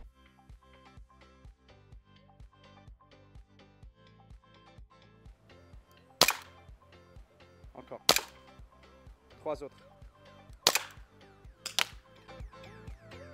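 Airsoft gun fired at a fixed wall target near a swimming pool, several sharp isolated cracks spaced a couple of seconds apart over a steady rhythmic music-like background, with a brief spoken word.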